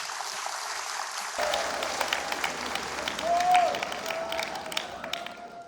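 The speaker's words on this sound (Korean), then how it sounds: "뜨거운 박수로 부탁드립니다" Steady applause from a church congregation at a commemorative worship service, a broad even wash of clapping that starts abruptly and continues throughout, moderately loud.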